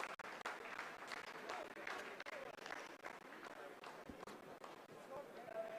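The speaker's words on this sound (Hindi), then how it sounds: "आप इस तालियों के गड़गड़ाहट को सुन सकते हैं" ISRO scientists break into applause in a mission control room during the Chandrayaan-3 lunar landing, a faint, sustained roll of many hands clapping together.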